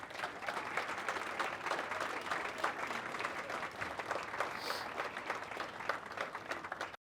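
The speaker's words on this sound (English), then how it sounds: "Please give your parents and your families a big round of applause" Sustained audience applause for parents and families at an academy awards evening, dense steady clapping from a large crowd filling the whole stretch without a break.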